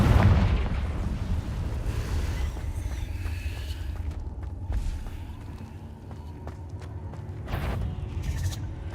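Repeated Confringo fire-spell blasts in Hogwarts Legacy combat: heavy booming explosions with rumbling low end, a strong blast at the start and further sharp bursts later, among game noise.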